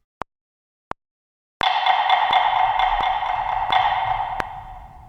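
A rhythm example played on a synthesized tone: two clicks, then a steady sustained chord with evenly spaced attacks in triplet groupings, ending with a final note.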